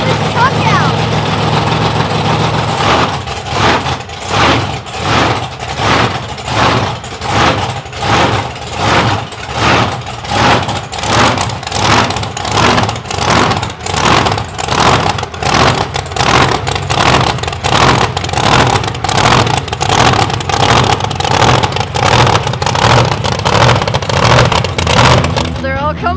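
A monster truck engine revs and rumbles loud and close, pulsing in steady rhythmic bursts as the truck pulls out of a big semi-trailer, with a voice talking over it.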